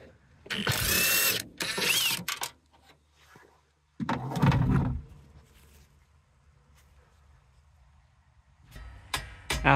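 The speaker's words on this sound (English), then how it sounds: "we can now remove the rear top strut nuts with a 14 mil socket" A 14 mm socket on a ratchet wrench loosens the rear top strut nuts of a 2010 Acura during a coilover install, in several close, rapid ratcheting bursts separated by pauses.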